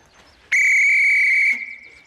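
A referee's whistle blown for a penalty during a football match: one loud, close, sustained shrill blast lasting about a second, then a brief fading tail.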